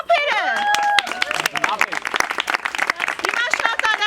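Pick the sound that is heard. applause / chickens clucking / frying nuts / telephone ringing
applause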